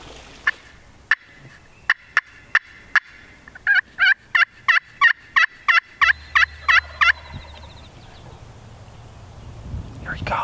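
A wild turkey gobbles repeatedly outdoors in New Jersey. A run of sharp clucks and yelps builds into a quick series of rhythmic gobbles, and a faint low rumble sits beneath.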